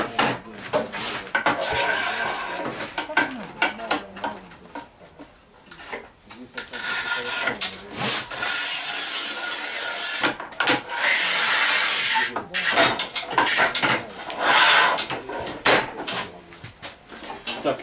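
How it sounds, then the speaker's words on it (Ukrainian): Sigma manual tile cutters, a new Series 4 and an older Series 3, score and snap 9 mm porcelain stoneware tile: repeated scraping passes, clicks and sharp snaps close by, with a person talking in between. "І тепер будемо новою сігмою і старою кромсати."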